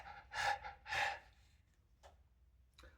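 A voice imitates a tired dog panting: two loud, breathy huffs close together, followed by fainter, softer breaths.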